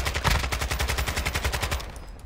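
Rapid automatic gunfire from a video game shooter, a steady burst of about twenty evenly spaced shots over two seconds, loud and close, then breaking off abruptly.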